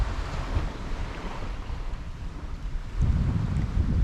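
Waves and steady wind at Mahbang beach in Jepara, a wide shore beside a small river mouth and rice fields; continuous surf rush with buffeting wind on the microphone, swelling louder near the end, no voices.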